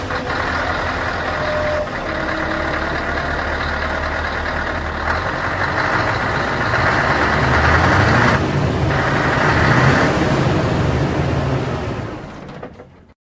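A truck engine rumbles steadily nearby, idling and then revving louder for a stretch before settling and cutting off at the end; no talking.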